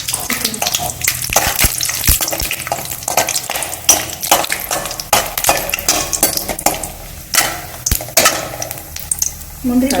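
Cashew nuts fry in hot ghee with a loud, busy crackling sizzle, and a utensil clatters and scrapes against the pan now and then.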